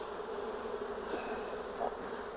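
A swarm of honeybees buzzing at a swarm trap hive, a dense, steady, close drone of many wings that goes on without a break, with no voices over it.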